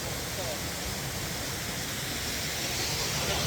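A waterfall in the Brecon Beacons gives a steady, broad rushing roar of falling water, continuous and even throughout, with faint voices in the background.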